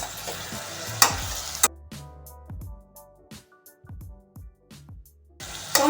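Tomato and Kashmiri chili powder fry in a pan for dum aloo: loud sizzling at the start and end, with a run of sharp spoon clinks and scrapes against the pan in between, close and quiet overall.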